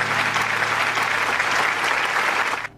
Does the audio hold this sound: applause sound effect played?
yes